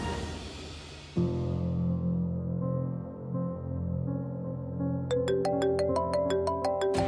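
An electronic phone ringtone for an incoming call plays a sustained tonal melody, then shifts into a bright repeating chime pattern, fairly loud and close with no talking.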